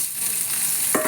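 Pieces of pointed gourd hit hot oil and fry with a loud, close hiss of crackling, ending in a brief clatter as they settle in the pan.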